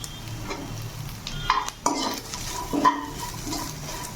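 Garlic, ginger and chillies frying over high flame in a pan, with a constant sizzle broken by several sharp metallic scrapes and clinks as a spatula stirs them.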